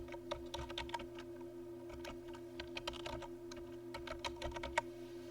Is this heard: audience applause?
no